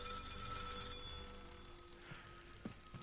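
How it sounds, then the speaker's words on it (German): A telephone rings inside the horror video game Maid of Sker, a steady electronic bell tone carrying through the whole stretch over low, murky game ambience. "Das Telefon klingelt jetzt erstmal wieder"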